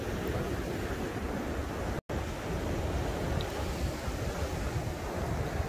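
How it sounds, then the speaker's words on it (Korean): Sea waves break on the East Sea coast near Naksan Beach on a clear winter day, a continuous broad roar of surf mixed with wind, with a brief dropout near the start. "동해 안에 와서 이렇게 파도는 좀 칩니다만"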